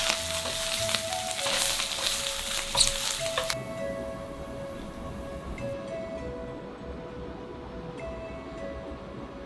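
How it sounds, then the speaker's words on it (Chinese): Ganba fungus stir-fries with chili peppers in a hot pan, loud crackling sizzle at first that settles into a quieter, steady fry with occasional scraping stirs, no talking. "干巴菌一般拿来炒辣子"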